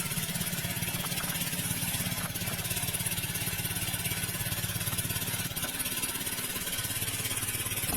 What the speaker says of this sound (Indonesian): Mesin sudah hidup, air pun akan berembus ke dalam anak parit, menimbulkan tekanan